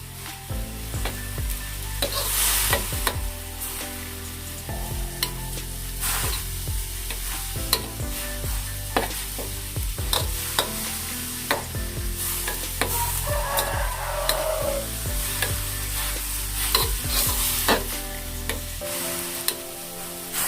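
Minced pork fried in a pan for Thai larb, stirred continuously with a utensil: a steady close sizzle under repeated scraping and clacking strokes against the pan, with no talk.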